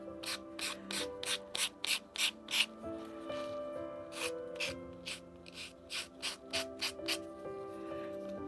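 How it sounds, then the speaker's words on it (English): Rhythmic back-and-forth sanding strokes on a painted surface rasp up close, in two quick runs separated by a short pause, with faint background music. "I find that you don't have to do as much sanding as you do normally."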